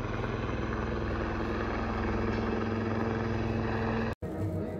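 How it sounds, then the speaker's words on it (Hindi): A helicopter carrying a VIP lands at Kedarnath, a steady loud rotor and engine drone filling the scene without a break until a sudden brief dropout near the end. "मुकेश अंबानी पहुंच चुके हैं अपने हेलीकॉप्टर से, अपने VIP सिक्योरिटी के साथ, और अभी वो नीचे उतर रहे हैं।"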